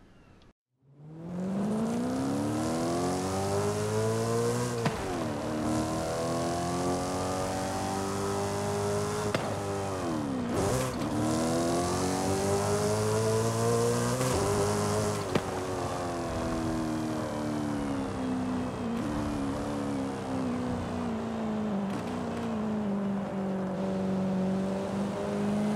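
A 1026 hp V8 TVR Griffith in Forza Horizon 5 drives on a track, its engine droning loud and close, rising and falling through repeated gear shifts and revs, with no talk.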